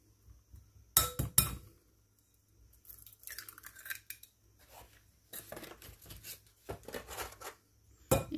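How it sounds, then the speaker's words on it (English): Two eggs are cracked in a kitchen, with sharp close taps against a hard edge followed by faint shell crackling and small handling noises between quiet gaps. "I'm going to crack open 2 eggs."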